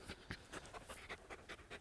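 A young hunting dog pants quickly and rhythmically during tracking training, close by and fairly quiet, with steady short breaths throughout.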